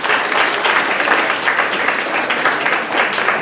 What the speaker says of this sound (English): Can you give a big round of applause to the performers who performed this night?